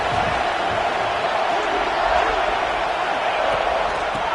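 A football stadium crowd roars steadily in a dense, continuous wash of cheering at a big moment, with a commentator talking over it.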